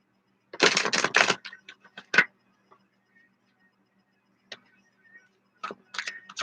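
Tarot cards shuffled by hand: a dense riffling burst of quick papery clicks, then scattered taps and light card handling with pauses, close and fairly quiet, with no talking.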